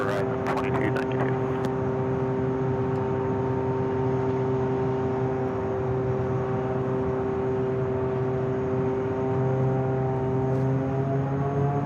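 Jet airliner engines at LAX airport spooling up to high thrust, a loud sustained roar with rising whining tones at a distance, steady throughout with a few brief clicks at the start.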